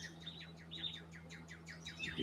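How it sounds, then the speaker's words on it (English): Birds chirp and tweet around a pond in a repeated series of quick, clear descending calls, moderately close, over a steady low hum. "it looks like we got some birds around"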